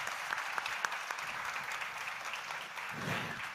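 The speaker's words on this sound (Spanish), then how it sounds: "Les pido un aplauso para los panelistas" Audience applause for the panelists at the close of a digital health forum panel in Colombia, a steady wash of many hands clapping that holds for the whole stretch, with a low murmur rising near the end.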